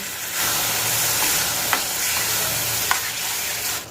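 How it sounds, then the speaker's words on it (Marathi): Tomato puree sautéing in a pan for a gravy with dried lentil dumplings gives a close, even sizzle and stir for about four seconds, with two sharp spoon clicks against the pan. "त्यामध्ये आपण टोमॅटो प्युरी घालत आहोत ते छान परतायचं आहे"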